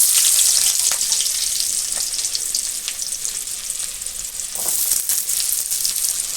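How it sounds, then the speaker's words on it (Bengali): Chopped garlic and onion hit hot oil reused from frying pakoras, a bright, close sizzle that is loudest at the start, eases briefly, then flares again with crackling spits. "দিয়ে দিচ্ছি রসুন কুচি, আর দিয়ে দেবো পেঁয়াজ।"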